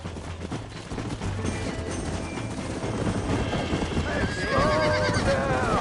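A horse galloping in Red Dead Redemption, with rapid hoofbeats under a rising shrill neigh near the end, set against gunfire and a busy action soundscape.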